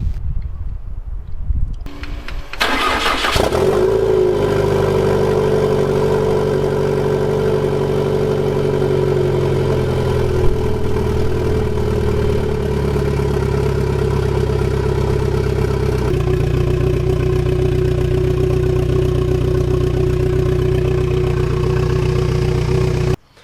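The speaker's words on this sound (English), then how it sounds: "The car is finally outside and it's running." A Fiat Coupe 16V Turbo engine cranks and catches, then idles steadily for a long stretch after fresh coolant, loud and close, with a slight shift in pitch partway through.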